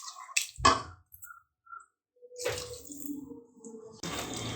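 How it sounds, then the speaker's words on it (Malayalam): Cornflour slurry is poured a little at a time into boiling mushroom chilli curry, giving close, soft wet drips and squishy splashes in short bursts separated by brief silences. "ഇനി ഇതിലേക്ക് കോൺഫ്ലവർ കലക്കി ഒഴിച്ചത് കുറച്ച് കുറച്ചായിട്ട് അങ്ങ് ഒഴിച്ചു കൊടുക്കാം."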